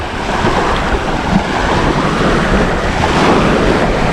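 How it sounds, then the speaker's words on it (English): Summer evening breeze off a lake at Norway Beach in the Chippewa National Forest, heard as a steady broadband wind rush buffeting the microphone, with soft lapping water beneath and no voices. "fantastic summer breeze coming off of this lake"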